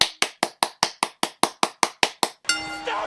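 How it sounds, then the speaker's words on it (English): About a dozen sharp hand claps in an even, slow rhythm, loud and close, then a bright ringing metallic tone that hangs on for a moment. "Stop clapping!"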